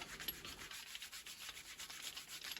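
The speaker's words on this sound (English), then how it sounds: "You can scrub it for about 30 seconds." Quiet rhythmic scrubbing by hand on a dirty part from a flat car, soft repeated rubbing strokes with a gritty swish, close but faint and with no talking.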